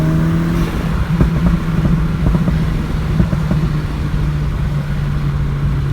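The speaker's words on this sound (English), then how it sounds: "the backfires sound pretty good" A Volkswagen MK6 GTI engine idling and revving nearby after a diverter valve upgrade, with scattered sharp pops and crackles of exhaust backfires over a steady low drone.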